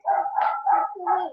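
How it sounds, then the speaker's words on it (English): A dog gives four quick, close barks in a row, loud and somewhat muffled, with no speech around them. "Who's got the dog?"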